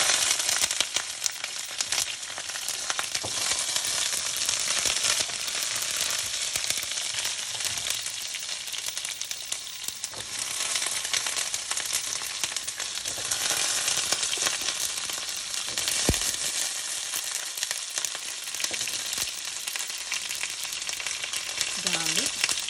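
Green chilies and large shallots sizzle in hot oil with curry leaves in a pan for Kerala mushroom theeyal, a dense, continuous frying crackle that carries on without a break throughout.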